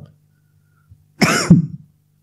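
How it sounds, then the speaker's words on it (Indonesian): One close, loud cough with a throat-clearing rasp, about a second long, set against a quiet background hum. "Itu batuk."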